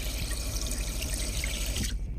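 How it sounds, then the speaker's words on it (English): Cold tap water pours steadily over pork spare ribs in a container, a close, continuous rushing flow that cuts off abruptly near the end, with no voices. "Cover the ribs with cold water."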